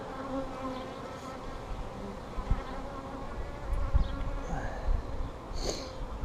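Honeybees from an opened top bar hive drone in a dense, agitated buzz close by, a continuous swarm hum with occasional louder passes near the listener.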